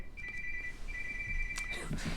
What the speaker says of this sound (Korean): 영상을 찍는데 예, 전화가 오네요.